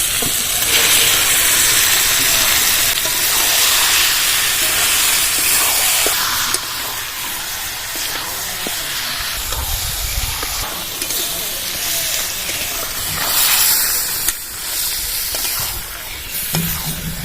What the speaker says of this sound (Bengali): ম্যারিনেট করা মাংসটা ঢেলে দেবো এবার